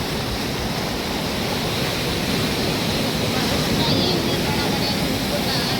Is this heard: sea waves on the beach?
yes